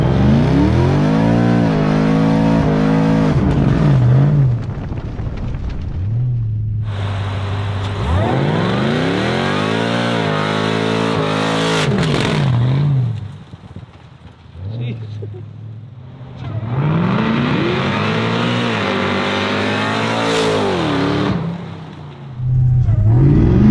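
Supercharged V8 Subaru Forester revving hard with its exhaust cutouts open, loud repeated rising and falling engine pulls close by, separated by brief idle dips, with people talking over it.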